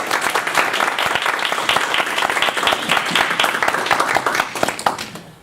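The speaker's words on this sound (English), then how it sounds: "Can we get Ron a little applause for that?" Audience applause for a long-standing member at a club gathering, a dense steady burst of many hands clapping close by that carries on for several seconds before starting to thin out at the end.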